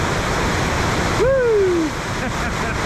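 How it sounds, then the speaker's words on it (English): Fast-flowing, flooded river water at a normally calm fishing spot rushes in a loud, steady roar throughout, with a brief voiced exclamation cutting in over the torrent near the middle. "Look at the amount of water coming through here."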